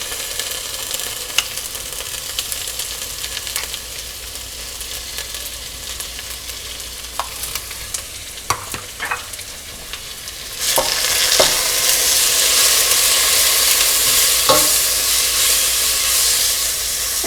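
Chilies in adobo sauce stirred into a pot of vegan lentil tortilla soup, with occasional utensil scrapes over a low simmer before the sizzle and hiss jump up loudly and hold steady to the end.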